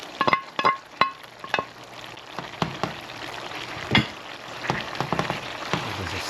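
Ginger and green onions are stirred in a pot of Jamaican curry chicken, with a soft sizzle beneath a series of sharp clinks and scrapes from the spoon against the pot.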